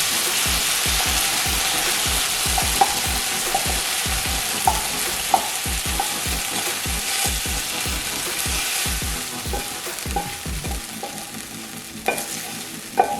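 Ground meat for shepherd's pie sizzles in a pan, a constant hiss punctuated by rhythmic scraping thumps and clicks from a spatula stirring and breaking it up, no talking.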